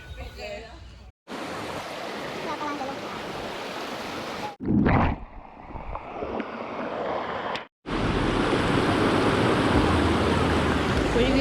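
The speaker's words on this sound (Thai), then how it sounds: "และนี่ก็เป็นน้ำตกหน้าแคมป์ของเรานะคะ" Rushing waterfall at a campsite at Dong Phaya Yen Camp in Saraburi, near the Jed Sao Noi falls. Its steady, dense roar of water is broken by short gaps and a brief louder splash in the middle.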